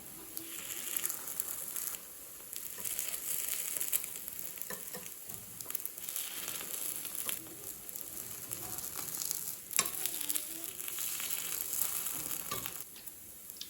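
Sweet rava paniyaram frying in a pan, a steady close sizzle hissing throughout with faint scraping touches and no talk.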